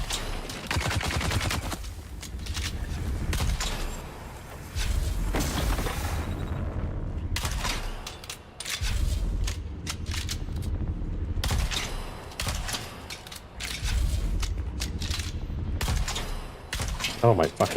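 Enemy troopers fire guns in the Dune survival game, with rapid bursts of gunfire and booming shots that come in waves and pauses over several seconds, while someone talks over the fighting.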